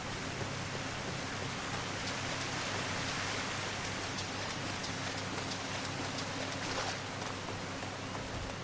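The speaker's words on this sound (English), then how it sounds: "It's raining and it's dark" Steady heavy rain falls in dark night-time Final Fantasy XIV gameplay, a dense constant hiss with faint scattered drops and no voice, unchanging throughout.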